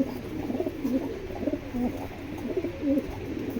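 A pair of foreign pedigree pigeons coo close by in repeated low, throaty phrases, with soft rolling calls rising and falling over a quiet background hum.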